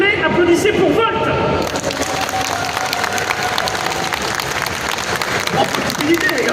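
A crowd at the Japan Expo fair in Paris applauds and cheers loudly, with steady dense clapping and crowd noise throughout and voices mixed in.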